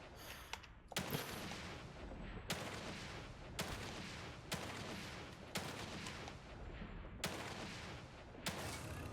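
Repeated gunshots in the Evil Within 2 video game, several sharp loud blasts at irregular intervals with dense noisy tails between them.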